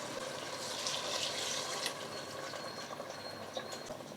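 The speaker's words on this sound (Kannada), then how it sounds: "ಜಾರ್ ತೊಳೆದ ನೀರು 1 ಲೋಟ ಹಾಕೋತೀನಿ" A cupful of water pours into a pot of washed rice for pudina bath, a short splashing gush that tails into a trickle amid light kitchen clatter.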